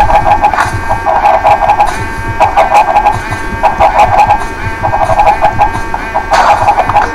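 Hen clucking in the Minecraft video game, repeated short tonal clucks in regular bursts, fairly loud over a steady background of game noise, with no talk.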